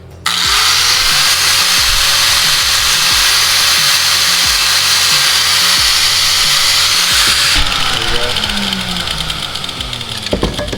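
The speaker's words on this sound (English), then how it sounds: "I'm gonna make it about an 1/8 inch with our angle grinder to make a bigger slot" Angle grinder widening a slot by about an eighth of an inch in a hood bump stop to fit a hood louver: a loud, steady whine that runs alone for about seven seconds, then shifts into rougher cutting noise.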